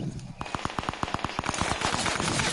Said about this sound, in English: Oh my god, they're shooting at me.